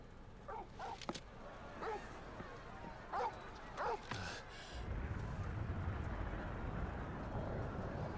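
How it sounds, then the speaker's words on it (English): Torgal, a wolf-like dog companion in the Final Fantasy 16 video game, gives several short barks and yips over about five seconds, followed by a steady rumble of game ambience. "What's Torgal barking at?"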